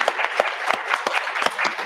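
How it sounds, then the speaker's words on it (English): Audience applause for a panel of speakers at a rainforest deforestation sound-tracking talk: steady, dense clapping from a crowd lasting the whole stretch, loud and close, with no voices. "Big warm round of applause to all our speakers."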